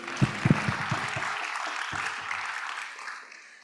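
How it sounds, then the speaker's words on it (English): Seminar audience applause welcoming a speaker at a JCC meeting, a few sharp claps leading into moderate sustained clapping that fades out near the end. "please give applause to Mr. Osamu Kamigaichi"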